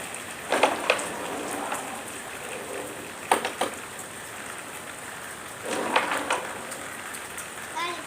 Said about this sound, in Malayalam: ആ ഇപ്പൊ ചെറിയൊരു രാത്രി മഴയാണ്.